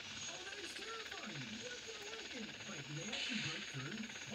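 A helicopter's rotor thrums steadily with a hissing engine whine, close and continuous, as heard from inside a game's aircraft; a voice speaks faintly underneath.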